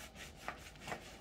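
A chef knife saws through a loaf of olive bread in a quiet, close back-and-forth rasping, with two soft strokes and slight crusty scrapes, no voices.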